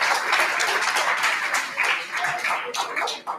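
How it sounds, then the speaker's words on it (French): Dense, vigorous clapping from a congregation at the solemn feast of Saint Gerard Majella, many hands beating fast and continuously, close and loud, with faint voices underneath. "Applaudissez pour l'esprit."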